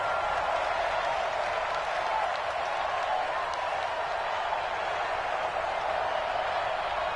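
A dense stadium crowd roars steadily at Arrowhead Stadium in a PS4 football video game, a broad continuous wash of cheering and applause-like noise with no distinct breaks, loud and enveloping throughout.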